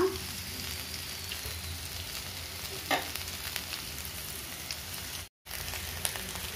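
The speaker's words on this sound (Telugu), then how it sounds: "మనం అందులో ఒక టమాటా వేసి అది కూడా మంచిగా ఇట్లా వేపుకోవాలి" Ivy gourd and tomato fry in oil in a pan, giving a steady, soft sizzle with faint stirring scrapes and one brief clatter, continuous throughout with no talking.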